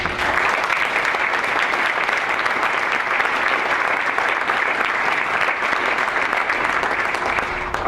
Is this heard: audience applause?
yes